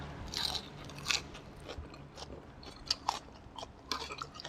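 Crunchy fresh vegetables bitten and chewed alongside a spicy chicken-feet papaya salad with fermented fish sauce, crisp crackling bites and chewing close to the mouth, fairly quiet, no talking.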